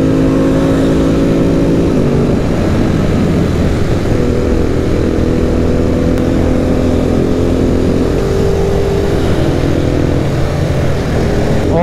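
Ducati motorcycle engine at high revs, loud and continuous throughout with steady harmonic tones that rise and fall as it accelerates and shifts up and down through the gears, heard close up with no talking.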